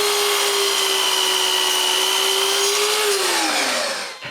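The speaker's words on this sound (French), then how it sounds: "quand tout est bien beau, là, je fais la première coupe à 45 degrés" Power saw making a 45-degree cut through a walnut clock frame, a loud steady whine that holds, then drops in pitch as the blade bites and winds down at the end.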